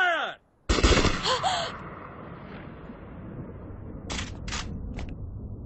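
Gunfire erupts on an order to fire in a Hindi-dubbed anime film, a loud sudden burst of shots that fades into a long rumbling decay, with a few short sharp cracks following later.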